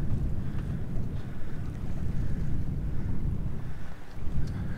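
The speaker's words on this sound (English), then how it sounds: "So yeah, right, wind's picking up." Strong wind buffets a sailboat as a storm approaches near an island, a steady loud rush with low roar and gusting microphone noise throughout, no voices.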